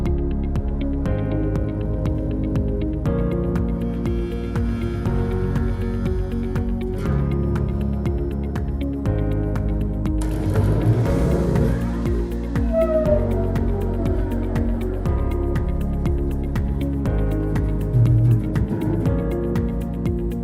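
A homemade stringed instrument with a stainless steel fretboard drones and rings continuously for a long stretch, dense buzzing strings with occasional plucked accents and no speech.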